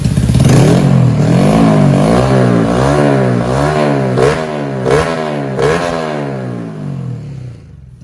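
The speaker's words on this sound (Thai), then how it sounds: "พามาฟังเสียงเครื่องนนะครับ คันนี้เป็นท่อดังนะครับ" A Honda Wave 125 fuel-injected motorcycle engine with an open, loud exhaust revs repeatedly with a throaty sound, rising and falling in bursts before settling and fading out.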